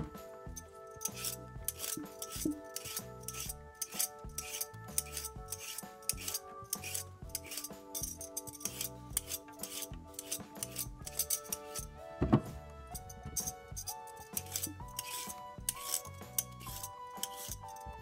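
A peeler scrapes a pear or carrot being prepared for juice, giving a steady run of quick, close rasping strokes that continue for the whole stretch, with background music underneath.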